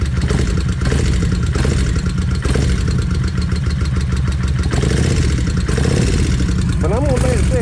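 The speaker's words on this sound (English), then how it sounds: "I'm gonna let it sit here and run, let it warm up, and see if it'll quieten off" A Kawasaki Vulcan 1600 motorcycle engine idles steadily while warming up, a close, loud, continuous mechanical rumble with rhythmic lifter clatter and a brief rev near the end.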